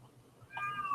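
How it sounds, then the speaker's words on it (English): A house cat meows in the background of a quiet room, a single drawn-out, slightly wavering call rising partway through and carrying on to the end, with no talk over it. "Please pardon my cat in the background."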